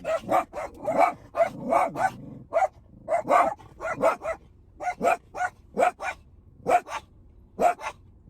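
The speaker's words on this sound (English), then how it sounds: "We're at the dog park and they see a dog and they go crazy." Several dogs at a dog park bark in excited, rapid bursts, one after another, loud and close, with occasional yips between the barks and no talking.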